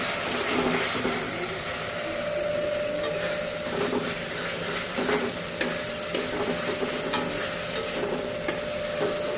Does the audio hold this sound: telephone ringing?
no